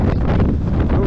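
Strong wind in fog on Mont Ventoux roars into the microphone as a loud, continuous buffeting rumble with gusty swells, alone without voices.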